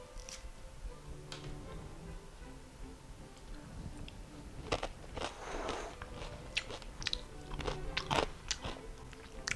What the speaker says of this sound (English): You see when I'm squeezing this, you can hear the crunchiness.